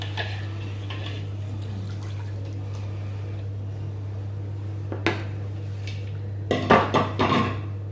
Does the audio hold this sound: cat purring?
no